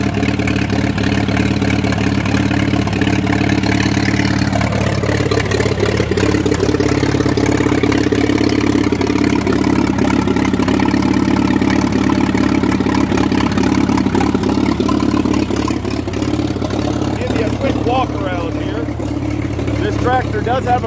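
An old Massey Harris 25 tractor engine idles with a steady low rumble and faint clatter throughout, close and continuous, without obvious revving.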